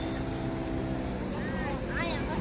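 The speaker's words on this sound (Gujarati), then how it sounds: "જો ને બોટ આવી ગઈ બીજી તો જો સ્પીડમાં આવે છે" A speedboat at Nagoa beach in Diu races closer at speed, its engine drone loud and steady under constant wind and beach noise, with people talking nearby.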